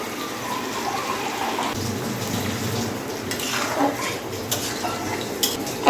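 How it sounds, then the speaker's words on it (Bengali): Water poured into a pan of simmering beef tripe, a soft sizzle and splashing with light clinks of a utensil against the pan, close and fairly quiet. "তো এখন আবার একটু পানি দিব।"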